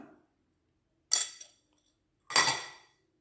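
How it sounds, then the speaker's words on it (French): A utensil clinks and scrapes against a bowl twice while water and yeast are stirred for pizza dough, two short bright bursts separated by silence. "Je mélange."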